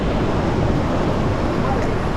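A continuous, loud roar of surf and wind fills the air at Nellore Beach at sunrise, steady and broadband with heavy wind buffeting on the microphone.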